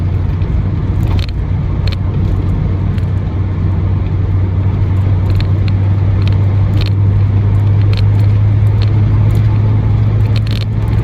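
A Peugeot 205 GTi 1.9 with an aftermarket exhaust idles steadily, a loud, close low rumble holding even throughout with faint intermittent clicks and ticks over it.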